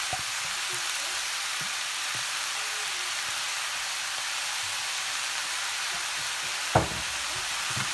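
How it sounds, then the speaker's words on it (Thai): Instant noodles stir-fried with holy basil, oyster sauce and seasoning sauce, topped with century egg, in a pan; a dense, even sizzle close by with soft occasional scrapes and one sharper knock near the end. "ผัดให้เข้ากันค่ะ"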